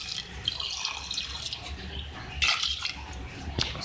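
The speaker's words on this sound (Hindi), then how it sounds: "मैं इसमें 1 गिलास पानी ऐड करूँगी" A glass of water splashes and trickles into keema cooking in a pot, a bright, uneven pour with a few louder splashes and no voices.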